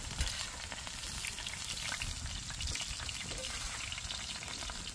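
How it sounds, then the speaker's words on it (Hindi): Spices fry in oil on a tawa while tava bhindi is being made: a steady, soft, crackling sizzle with dense popping runs continuously with no talk. "तवे में जो है हमने उसी तेल में मसाले पहले फ्राई करेंगे"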